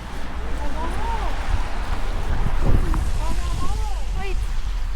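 Wind gusting across snowy mountain terrain at Göschenen, Switzerland, a steady loud rush with low rumbling buffeting against the microphone, while people talk over it.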